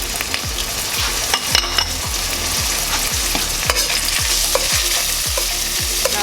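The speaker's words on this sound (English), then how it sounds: "So I'm gonna have those two sauteed." Chopped garlic and ginger sautéing in a stew pot, with a loud continuous sizzle and a regular, rhythmic knock of a spoon stirring against the pot about twice a second.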